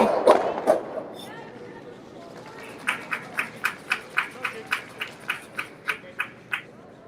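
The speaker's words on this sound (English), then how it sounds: "A lot of clapping." Spectators clap at a curling match, the Northern Ontario Tankard, Brad Jacobs vs. Sandy MacEwan. After a brief burst of noise, a steady, evenly paced run of claps follows, somewhat distant and crisp.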